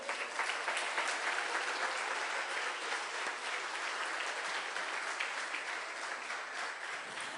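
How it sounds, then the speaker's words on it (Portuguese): Congregation applauding during a church sermon, a continuous wash of many hands clapping at moderate distance, steady throughout and gently tapering at the end. "Você pode aplaudir ao Senhor?"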